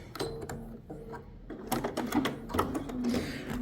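A sewing machine fitted with an embroidery module clatters through a couching stitch in quick, uneven bursts of mechanical ticking and whirring, fairly close and moderately quiet.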